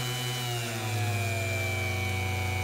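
A Tesla three-phase electric motor spun as a generator gives a steady, loud mechanical whine and hum with a slight rise in pitch, running alone without talk.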